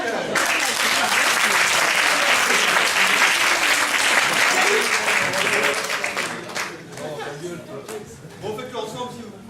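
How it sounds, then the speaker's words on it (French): An audience bursts into loud applause at a France–Québec match show, sustained clapping with some cheering that tapers off near the end as voices begin talking. "On applaudit Nico, s'il vous plaît."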